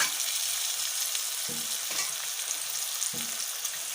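Peas and carrots hit hot oil in a pan for Singaporean rice, producing a steady, close sizzling hiss broken by a couple of soft stirring knocks.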